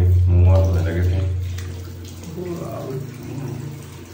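A tap runs while someone washes their face and hands at a sink. The steady flow of water is loudest at the start and stays under nearby speech throughout.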